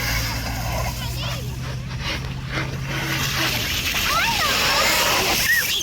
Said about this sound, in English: Oh, I was trying to splash you.